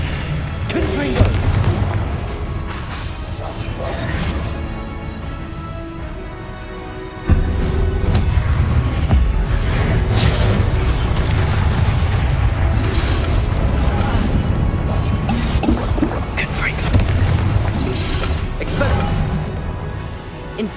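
Blasting spell explosions from the Confringo curse in the video game Hogwarts Legacy: repeated loud booms and crashes over a continuous rumbling battle din, with a sudden surge partway through, and spoken spell incantations mixed in.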